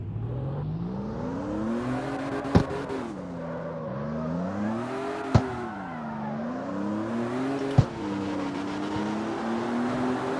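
Car engine in the CarX Street racing game revving and climbing through gears, pitch rising and falling in long sweeps with three sharp clicks of gear shifts, loud and steady with no voices.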